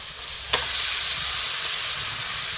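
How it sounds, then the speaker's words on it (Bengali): Chicken pieces added to fried spices in a pan, a sharp hit followed by a loud, steady hissing sizzle that fills the rest of the moment, no voices. "মশলাটা কষিয়ে নিয়েছি এবারে দিয়ে দেবো মাংসটা"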